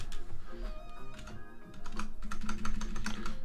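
A computer keyboard is typed on in irregular bursts of close, crisp key clicks over a low steady hum, with no talking.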